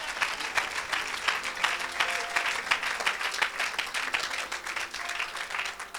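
A crowd at a religious gathering applauds and cheers for Jesus, steady loud clapping with scattered cries, sustained throughout with a faint voice under the noise.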